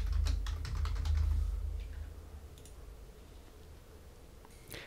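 A computer keyboard being typed on as a new password is set while installing Nutanix CE nested on VMware; a quick burst of close, crisp key clicks, then a few sparse taps over a low hum, with no talk.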